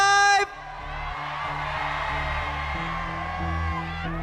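Pageant audience cheering and whooping in a large hall, a sustained roar of crowd noise blended with stage music after a brief amplified burst.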